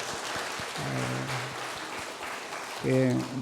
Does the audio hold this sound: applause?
yes